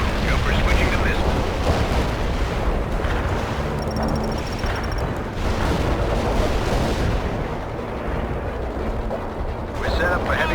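Heavy artillery fire support pounds a target in the military strategy game World in Conflict, a sustained barrage of deep booms and rumbling explosions with radio voices heard over it.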